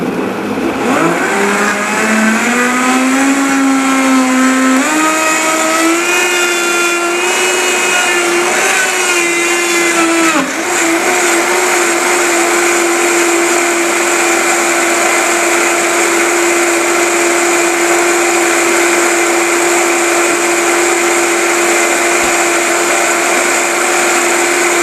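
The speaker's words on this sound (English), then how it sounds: "we're just going to start on low speed and then increase to high." A Vitamix 5200 blender blending a green smoothie, loud and close, its motor whine climbing in pitch from low speed to high over the first ten seconds, then holding a steady high roar.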